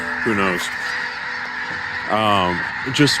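Migrating geese honk in short bursts from a passing flock, loud and nearby, two clear calling spells separated by a pause, with a person briefly talking over the background.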